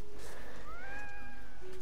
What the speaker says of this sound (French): Alors on va voir plein de petits chats. Des petits chatons.